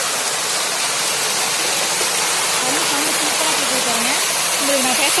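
Water rushes loudly and without a break at Krishnagiri Dam, a constant roaring hiss close to the listener. A voice can be heard faintly underneath.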